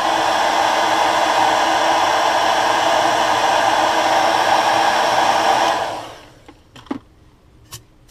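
A hair dryer blows steadily and loudly, close by, drying fresh paint on a pumpkinseed-pattern crankbait fishing lure, then switches off around six seconds, leaving a few faint clicks and taps.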